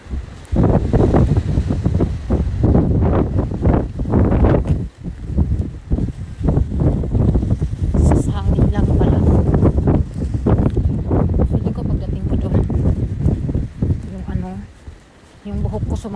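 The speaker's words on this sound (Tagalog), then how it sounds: "Ang lakas ng hangin. Akala ko may bagyo." Gusty outdoor wind beside a highway pounds the microphone with loud, low rumbling bursts that rise and fall continuously under a woman's ongoing speech.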